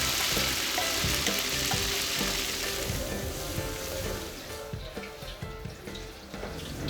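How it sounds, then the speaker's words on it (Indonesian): Ground Indonesian spice paste sautés in a hot pan for several seconds, a loud close sizzle and crackle with stirring scrapes, easing off slightly toward the end. "Bumbu halus langsung ditumis."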